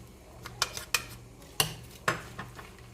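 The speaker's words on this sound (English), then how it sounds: "And add in our shredded cabbage." Shredded cabbage being added and stirred into a pot of Italian wedding soup, a handful of sharp clinks and scrapes of a utensil against the pot over a soft bubbling background, close and with no talking.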